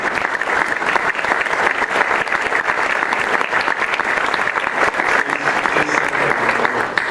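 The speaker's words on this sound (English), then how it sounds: "I'd like her to stand and give her a round of applause" An awards-event audience gives sustained, even applause for Jeanette Stevens at the 2016 PCC Executive in Residence Award, dense and loud from start to finish with no pause.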